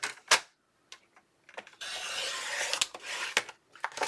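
Paper for a Halloween scrapbook album is cut on a trimmer. Sharp clicks and taps lead into a longer rasping slide of the blade, followed by more brief scrapes and knocks, close and fairly quiet.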